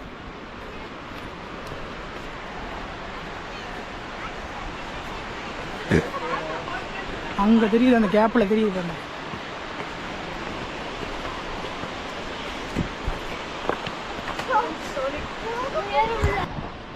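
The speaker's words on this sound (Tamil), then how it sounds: "கிட்ட நெருங்க நெருங்க அந்த அருவியோட சவுண்டு பாருங்கள் எப்படி கேட்குதுன்னு." Steady broadband rush of falling water from a waterfall in the Kolli Hills, heard while approaching it, fills the scene, with a person speaking briefly over it partway through.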